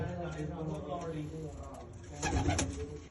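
Pigeons coo in soft, low repeated calls close by, with a brief rustle of wings near the end.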